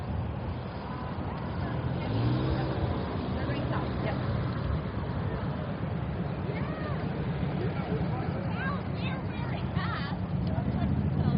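City road traffic on Bloor Street in Toronto rolls past a cyclist in a constant close roar of engines and tyres mixed with wind, with voices talking over it.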